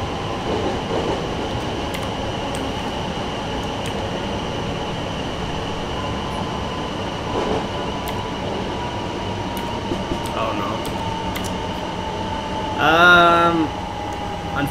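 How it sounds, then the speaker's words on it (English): A slow train in Train Simulator 2018 rumbles along steadily with a constant engine drone and faint rail clatter, ending in a brief rising squeal near the end, with no talk over it. "I think that's a really, really slow train."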